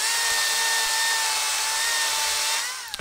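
A Makita DUC 353 cordless 36V chainsaw cuts through a 150 mm log, a loud steady high-pitched motor whine with chain rasp that holds for nearly three seconds before tapering off as the cut finishes.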